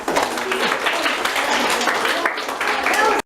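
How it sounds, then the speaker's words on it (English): An audience breaks into steady, full applause for actors after a performance at a farm event, dense clapping sustained throughout before stopping abruptly. "Now, a round of applause for our actors."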